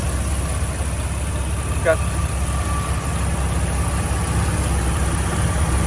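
A 2004 Jeep TJ Rubicon with a mostly stock straight-six and new fuel injectors idles close by, a steady even rumble with no revving and one faint brief chirp.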